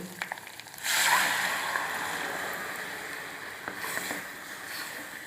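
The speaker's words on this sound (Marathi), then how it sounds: "आता ही आपली काकडी छान परतली, आता आपण कालवलेलं पीठ टाकून देऊ" Wet slosh and sizzle as mixed gram flour batter is poured onto sautéed cucumber in a hot pan, a sudden hiss that settles into a steady, softening sizzle.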